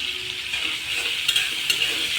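Prawns frying in a pan with a bright, crackling sizzle and a couple of quick spatula or utensil scrapes partway through, close and fairly loud.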